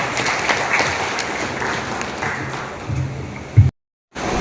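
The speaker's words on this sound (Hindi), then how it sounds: "एक बार जोरदार तालियों के साथ उनका स्वागत है।" Enthusiastic crowd applause welcoming a speaker at a BJP Kisan Morcha farmers' event in Mahendragarh, steady and dense for several seconds before cutting off abruptly.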